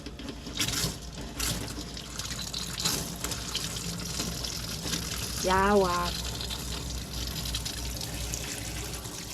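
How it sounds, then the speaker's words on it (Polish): Water runs steadily from a tap, with a brief voice speaking partway through and some clatter near the start. "Leci woda."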